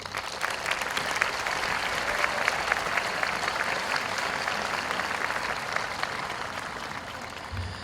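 Sustained applause from a crowd at a high school commencement, steady and fairly loud throughout, with no speech over it.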